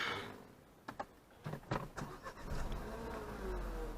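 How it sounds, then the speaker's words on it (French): A Renault Mégane 4 starting, with soft clicks and a short starter whirr before the engine settles into a quiet, steady hum inside the cabin. "Donc on démarre le véhicule."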